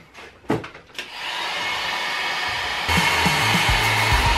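A hair dryer blows hot air onto a damaged plastic drone to soften it, a loud steady whine starting after a couple of clicks and rising in level midway as it continues alone.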